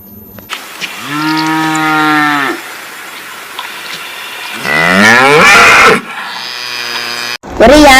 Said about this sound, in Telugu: వెళ్తున్నా. ఆవులకి మేతేయాలి.